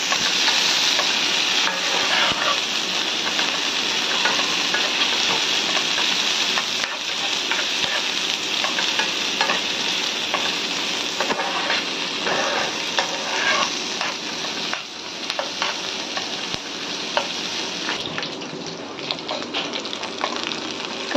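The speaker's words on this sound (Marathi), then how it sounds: "कांदा आपला आता ब्राऊन होईपर्यंत भाजून घ्यायचा आहे." Onions fry and sizzle steadily in a pan as they cook toward brown, with a constant dense hiss and occasional stirring scrapes, close and loud throughout with no talking.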